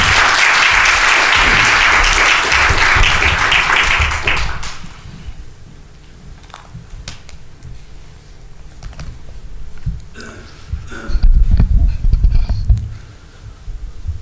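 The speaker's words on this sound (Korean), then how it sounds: "권성희 사님 나오실 때 큰 박수로 우리 환영하겠습니다." A congregation at a Sunday worship service at Emmanuel Church in Philadelphia claps loudly and densely for about four seconds. The applause then drops away to a quiet room with scattered taps and rustles.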